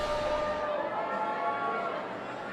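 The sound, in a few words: crowd celebrating at Ted Cruz election watch party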